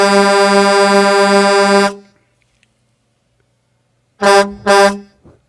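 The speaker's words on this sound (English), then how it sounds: "Don't forget to honk the horn." A car horn blares in one long, loud blast, then after a silent gap two short honks follow close together.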